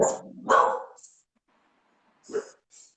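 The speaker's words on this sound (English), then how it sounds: "I got dogs over here barking" Dogs bark nearby in a few sharp bursts, two loud barks up front and a softer pair after a short silence.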